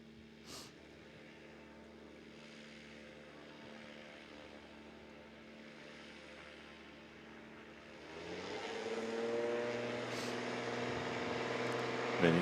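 Backcountry Boss STOL airplane with a 300 horsepower engine at a Rocky Mountain STOL competition, a distant propeller drone that builds louder and nearer toward the end, with commentary speech over it.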